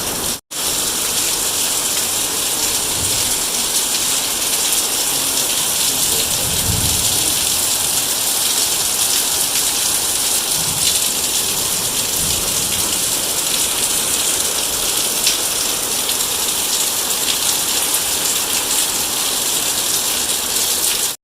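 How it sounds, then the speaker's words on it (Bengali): Heavy early-morning rain pours down in a dense, continuous roar on surfaces, loud and unbroken throughout, with faint low rumbles underneath. "সেই বৃষ্টি হচ্ছে। আওয়াজে তো বুঝতেই পারছো।"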